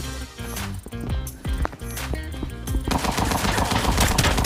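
SA85M rifle fire in the shooter game Arena Breakout: loud, rapid automatic bursts of shots, with a brief break before another sustained stream of fire that runs to the end.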